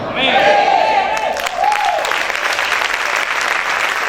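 A church congregation bursts into loud, dense applause that fills the room from start to finish, with a raised voice and sung tones riding over the clapping in the first seconds.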